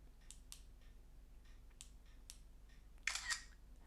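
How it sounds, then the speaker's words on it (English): Phone camera shutter fired by a selfie stick's remote button, a series of faint short clicks in a quiet room followed by one louder, fuller shutter burst near the end. "Some shutter buttons actually mute the sound of the shutter in your phone when pressed"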